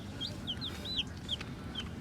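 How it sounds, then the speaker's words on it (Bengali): Newly brought broiler chicks on a rooftop garden give a run of short, high-pitched peeps in quick succession, with no one talking. "নতুন করে ব্রয়লারের মুরগির বাচ্চা নিয়ে এসেছি"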